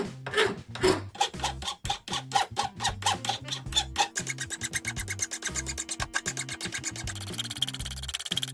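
A hand file rasps against an aluminum PC case frame in steady strokes, slow at first and then quickening into fast, even back-and-forth scraping with noisy chatter, close up.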